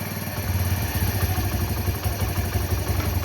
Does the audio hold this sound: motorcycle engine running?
yes